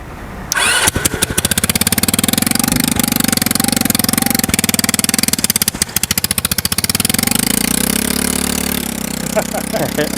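A Honda Ruckus scooter with a fabricated rear frame starts and runs through a test start, its engine buzzing loud and close with rough rapid firing pulses, rising and easing with the throttle while people talk nearby.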